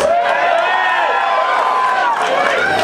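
A concert crowd at Neumos in Seattle cheers and whoops after a song at a show, a loud, dense roar of many voices filling the whole clip with no break.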